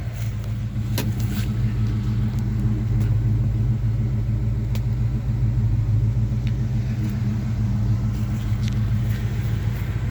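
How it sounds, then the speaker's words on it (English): A 1978 GMC C15 pickup truck engine idling steadily in a yard, a continuous low rumble with a few faint ticks and no voices. "I'm glad I'm letting this thing run for just a few minutes, because it sure does need to run"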